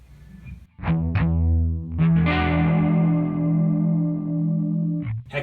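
An electric guitar through a Rockman Stereo Chorus with the speed turned all the way up rings out distorted chords with a fast warbling shimmer, loud and sustained, with no talk.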